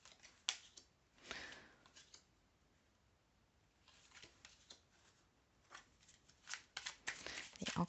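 Tarot cards are shuffled close by, giving quiet bursts of riffling and flicking that come in clusters with pauses between them, and a faint voice now and then.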